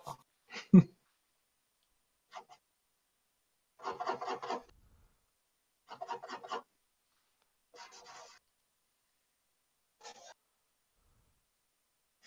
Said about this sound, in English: It does sound like something else, but he's actually using charcoal.